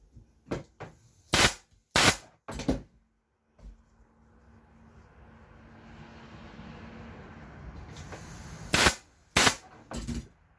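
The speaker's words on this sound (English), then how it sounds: "Sorry about the noise of the staples." Several sharp, loud percussive snaps in quick succession from a staple gun fixing upholstery on a kitchen chair, a stretch of broadband rustling and scraping, then two more sharp clacks near the end.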